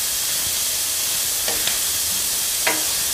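Pasta and bacon sizzle and fry steadily in a pan, a constant loud hiss with a few faint clinks of stirring on top.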